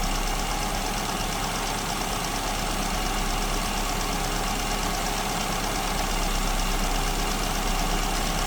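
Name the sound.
engine idling with lean SU carburetor mixture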